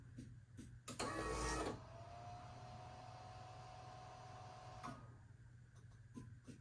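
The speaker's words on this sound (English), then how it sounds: "So now we're gonna test the motor going down." A pop-up headlight motor on a Toyota SW20 MR2 runs with a brief loud whir and clunk, then a steady thin motor whine for about three seconds before stopping with a soft clack, heard close and quiet.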